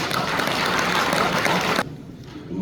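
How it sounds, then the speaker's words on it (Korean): Loud, dense applause from a church conference audience welcoming a theology professor and pastor to the lecture podium. It holds steady, then cuts off abruptly and leaves only faint room tone. "오실 때 큰 박수로 환영합시다"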